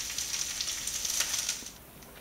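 Vegetable broth poured into a pot of sautéing carrots and cabbage for an Asian white cabbage soup, a crackling sizzle and splash that fades out near the end, with no voices.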